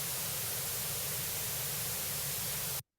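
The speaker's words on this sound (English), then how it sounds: "If you listen to white noise" Flat hiss of a white noise test signal played back in Audacity, uniform and loud across the whole range, holding steady for almost three seconds before cutting off abruptly into silence.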